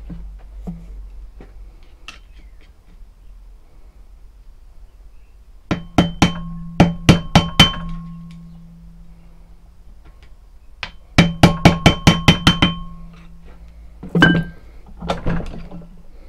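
A chisel or flathead screwdriver is struck with a hammer to finish a hole in a knife guard, in two quick clusters of sharp ringing taps, close and loud, separated by quiet.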